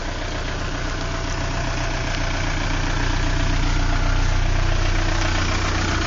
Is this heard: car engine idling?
yes